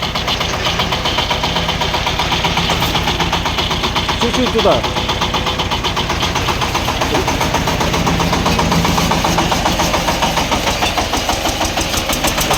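A Shifeng 350 mini tractor's single-cylinder 35-horsepower engine idles with a steady, rapid chugging knock throughout, close and loud, while a person speaks briefly over it.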